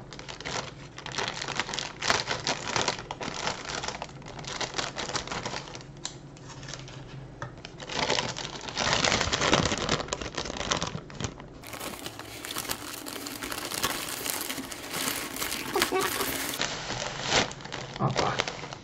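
Plastic packaging of Babiko size 4 Maxi diapers crinkling and rustling close up as it is torn open and handled, in continuous irregular bursts with a faint voice now and then.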